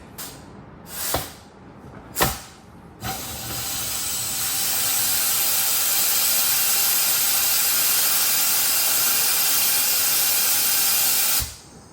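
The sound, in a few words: spraying flush out of a Corvette transmission cooler line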